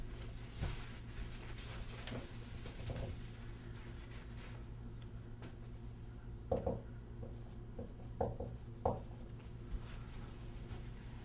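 Soft rubbing and scrubbing as writing is wiped from a board during a calculus lesson, quiet scattered strokes and a few sharper taps near the end against a faint room hum, with no talking.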